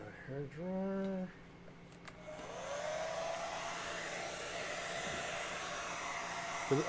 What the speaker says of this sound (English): we're going to speed this up a little bit with a hair dryer